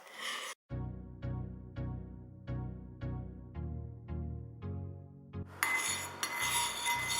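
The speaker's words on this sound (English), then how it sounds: "And then we stir the mixture until it's completely melted." A utensil stirs a melting beeswax and oil lip balm mixture in a bowl, making about nine evenly spaced ringing clinks against the side. A louder rushing noise follows at the end.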